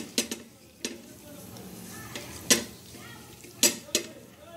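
Raw prawns being mixed with a little salt in a metal bowl, giving a few sharp scattered clinks and scrapes of utensil on dish over quiet background.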